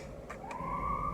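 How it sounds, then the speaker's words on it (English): An ambulance siren passes outside near a parked car at night, a steady rising tone that swells in from the distance and grows louder, holding a sustained wail with no talking. "I don't like seeing ambulance."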